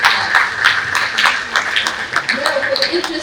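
Audience applause at a health forum, a dense burst of hand clapping that rings out close and loud before thinning toward the end.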